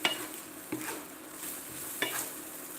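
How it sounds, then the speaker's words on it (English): Food for breakfast burritos sizzles in a frying pan while a utensil scrapes through it in three distinct close strokes over a steady frying hiss. "A good stir"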